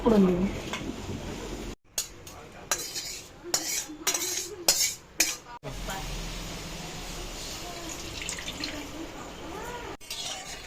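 Cooked pumpkin greens being lifted out of a wok with a metal utensil, giving a run of sharp scraping and clinking strikes against the pan around the middle, with kitchen clatter and a voice before and after.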